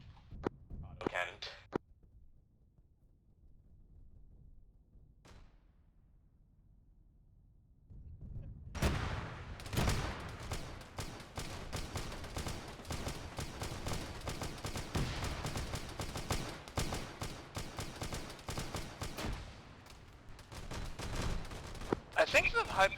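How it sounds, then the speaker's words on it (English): An autocannon fires rapid, heavy bursts in a Warhammer 40K video game, a dense rattling barrage that starts after a quiet stretch and continues steadily, with voices talking at times over it. "Auto cannon."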